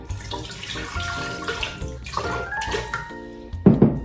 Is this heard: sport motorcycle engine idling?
no